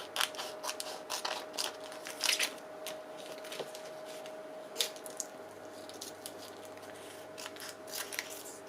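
Scissors snipping through a piece of fabric for a pocket backing, a run of soft, close, irregular crisp cuts and rustles at low level, with no talking.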